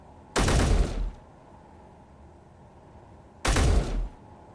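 Two loud, punchy gunshots with heavy recoil ring out in the Space Engineers video game, spaced about three seconds apart, each followed by a short rumbling decay and quiet in between.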